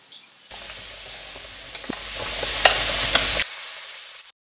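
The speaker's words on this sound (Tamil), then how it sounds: "இப்போ தாளிச்ச ஜீரகத்தையும் நம்மளுடைய தால் மக்கானியில போட்டுட்டோம்." Hot cumin tempering is poured into dal makhani, a burst of sizzling hiss that swells, peaks with a few sharp crackles and clinks, then cuts off abruptly after a few seconds.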